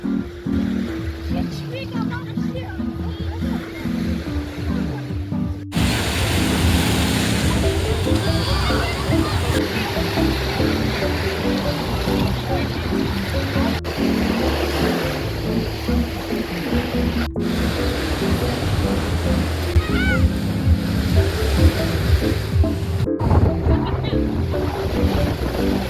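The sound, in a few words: ocean waves on a beach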